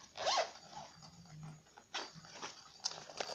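A zipper on a Tinkerbell pencil case is pulled open in several quick, close rasps with short pauses between them, heard alone without talk.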